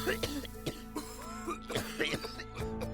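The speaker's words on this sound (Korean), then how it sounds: "4명은 기침을 했다" Several people cough repeatedly inside a car filled with disinfectant smoke, a rapid overlapping series of short harsh coughs and throat clearing spread through the whole stretch.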